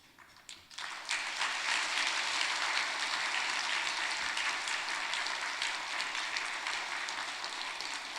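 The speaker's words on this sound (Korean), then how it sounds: "우리 환영의 박수 인사드리겠습니다" Sustained church congregation applause welcoming Pastor Ryu Young-mo to deliver a sermon on family healing; it begins with a few scattered claps, then swells into dense, steady clapping from a large crowd that holds evenly to the end.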